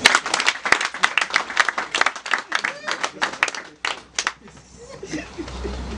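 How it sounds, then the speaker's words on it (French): A room claps for a commune official at a project presentation in Akanda, sharp uneven bursts of handclaps with some chuckling mixed in, loud at first and thinning out to scattered claps before fading into low room noise. "Je veux qu'on applaudisse pour lui."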